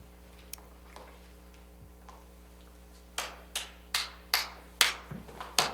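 A child clapping a rhythm while a group passes the beat around a room: after a few faint ticks, a run of crisp, close claps lands in an uneven pattern over a quiet background hum.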